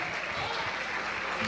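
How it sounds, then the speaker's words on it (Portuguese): A church congregation applauding Jesus during a sermon by a pastor, a steady wash of clapping sustained throughout, moderately distant, with a voice speaking over it. "aplaudindo a Jesus, porque Ele é bom"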